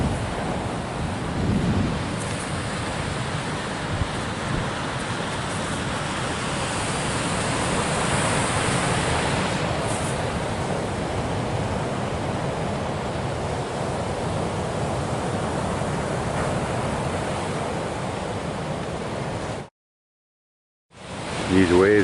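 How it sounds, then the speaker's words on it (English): Large surf breaking on a long, wide beach in Samoa makes a steady, loud broadband roar with slow swells of intensity, some wind rumble on the microphone, cutting out briefly near the end. "These waves look really dangerous."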